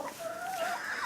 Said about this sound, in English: now we got two hens fighting over a nest